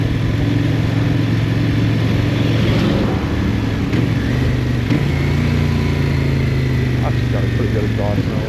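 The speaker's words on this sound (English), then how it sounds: "Got a pretty good exhaust note." A CF-Moto 800NK motorcycle engine runs close by at a high, steady idle, its low droning exhaust note holding throughout with slight wavering.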